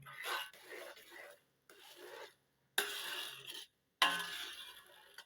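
Sugar syrup boiling in a pot on the stove is stirred and scraped down the sides with a utensil, making several close rasping bursts of scraping and rubbing separated by short pauses.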